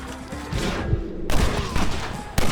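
Dense gunfire from a Red Dead Redemption shootout in a video game, with rapid overlapping shots and booms, loud and close throughout.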